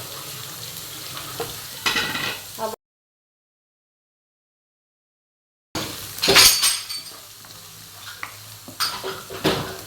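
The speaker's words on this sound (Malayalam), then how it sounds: "ഇനി ഇതിലോട്ട് നേരത്തെ അരിഞ്ഞു വെച്ച സവാള ഇഞ്ചി പച്ചമുളക് ഇതൊക്കെ ഇട്ട് കൊടുക്കാം" Onion, ginger and green chilli dropped into hot oil with dried red chillies for potato bhaji, giving a steady sizzle with clinks and scrapes of a spoon against the pan, broken by a silent gap of about three seconds.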